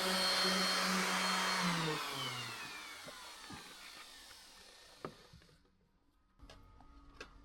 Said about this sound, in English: start polishing the edges on the dash covers